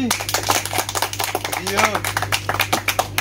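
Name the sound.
hands clapping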